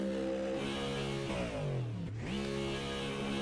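A GT3 race car engine revs in a sim racing game at Watkins Glen, a steady loud drone with harmonics that dip and climb again midway through a blip of the throttle, with no talking.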